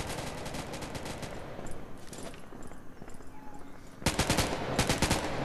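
Rapid bursts of automatic gunfire from the mobile shooter game Modern Strike Online. Loud rattling volleys start and stop in uneven clusters, with a dense salvo near the end.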